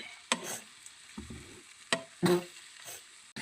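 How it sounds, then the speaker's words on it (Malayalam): Tomatoes being stirred in a frying pan, a few separate scrapes and soft knocks of a spoon over a faint sizzle, quiet and close, with no speech. "തക്കാളി തന്നെ നല്ല തക്കാളി ഇനി ഇളക്കി കൊടുക്കാം"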